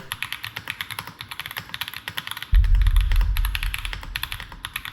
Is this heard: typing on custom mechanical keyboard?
yes